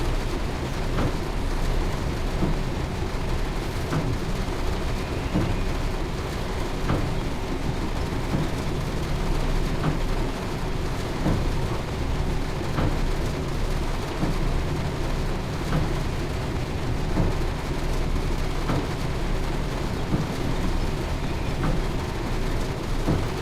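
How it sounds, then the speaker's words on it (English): Wind blowing in Train Sim World 4, a steady, loud, broad rushing roar that holds unchanged throughout, with faint scattered ticks inside it and no voices. "you can definitely start to hear the wind"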